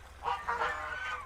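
Angry farm geese give a few harsh, nasal honks close up, one after another, with the last call drawn out.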